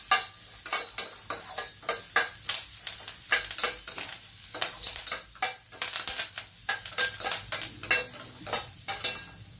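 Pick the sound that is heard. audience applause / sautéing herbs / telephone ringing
sautéing herbs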